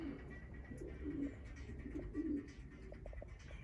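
Racing pigeons coo softly in a loft, low throaty calls repeating over a faint background murmur.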